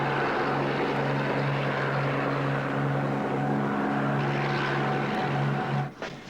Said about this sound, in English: Helicopter ready to make landing with bathysphere